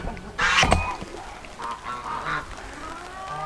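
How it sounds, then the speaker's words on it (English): Loud honking and quacking from a group of farm geese and ducks at feeding time, a sharp burst early on, then scattered calls continuing. "it is lunchtime for the birds, so they'll be noisy for a second"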